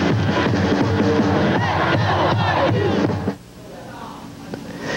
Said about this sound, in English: how about a cheer for the Pep Squad as well?